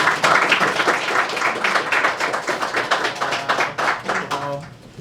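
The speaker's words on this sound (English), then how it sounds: "Let's give her a round of applause." Audience applause at a university event honoring a congresswoman, dense steady clapping with some sharp individual claps, close and moderately loud, fading toward the end.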